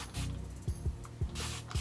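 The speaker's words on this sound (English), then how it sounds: "So I'm just spraying my hair more, trying to get it soaked." A spray bottle mists water onto curly hair in quick repeated pumps, each a short close hiss with a faint plastic click from the trigger, several sprays in rapid succession.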